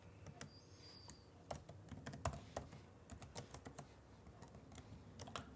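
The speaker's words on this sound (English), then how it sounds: "as we're typing this collection out" Computer keyboard typing in quick irregular bursts of close, crisp key clicks, continuing steadily throughout with brief pauses between runs of keystrokes.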